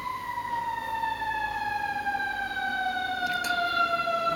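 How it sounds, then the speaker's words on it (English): A fire engine siren wails loud and steady from start to finish, its pitch sliding slowly downward as the vehicle passes, with no talk over it. "I'm just gonna wait for the siren to finish."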